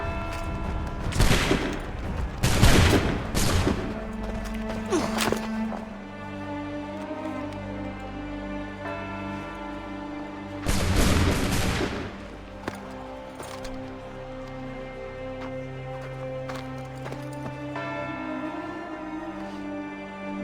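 Musket volleys crack out in Assassin's Creed 3: a dense burst of several overlapping shots early on, then a second loud volley about halfway through, with game music and ambience droning between them.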